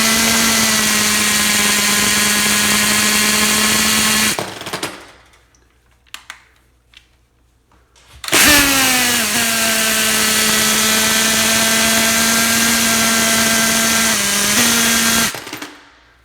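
A power drill spins at high speed to clear a clogged drain pipe, with a loud steady whine that stops for a few seconds and then starts again for a second long run.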